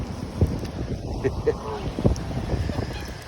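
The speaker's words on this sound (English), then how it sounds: "A windy day." Gusty gale-force wind buffets the microphone with a steady roar and occasional thumps, while a voice speaks briefly in the background, near a mute swan family.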